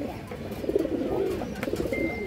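A pair of Sundori breed pigeons coo softly nearby in a low, rolling burst, with a brief higher chirp near the end.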